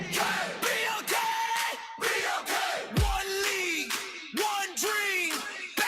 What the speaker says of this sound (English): Yeah, make some noise.